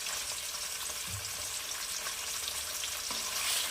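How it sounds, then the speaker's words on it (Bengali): Paneer cubes frying in oil in a pan for Bengali paneer khichuri: a steady, dense close sizzle with faint stirring bumps, no voices. "এবারে দিয়ে দেবো এর মধ্যে পনিরগুলোকে ভেজে নেব।"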